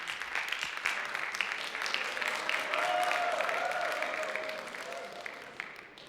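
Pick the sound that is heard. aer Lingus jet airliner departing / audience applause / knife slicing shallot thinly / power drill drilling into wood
audience applause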